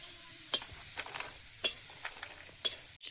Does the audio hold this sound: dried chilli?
yes